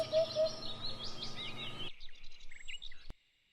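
Soft hoopoe calls chirp and warble over a low background hum, followed by a series of quicker, brighter notes before cutting off abruptly.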